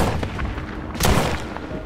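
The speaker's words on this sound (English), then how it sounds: "Then I shot him again." Gunshot in The Walking Dead: Saints & Sinners, a single sharp report with a short booming tail standing out from a continuous game background, close and fairly loud.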